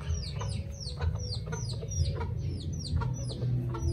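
Darag hens cluck repeatedly in short bursts, with several birds calling close by over a steady low rumble of background noise.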